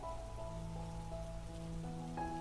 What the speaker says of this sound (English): Staring at the rain like this, you and me.